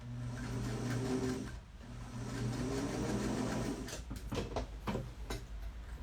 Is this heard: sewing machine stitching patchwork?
yes